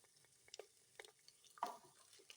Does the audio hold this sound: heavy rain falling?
no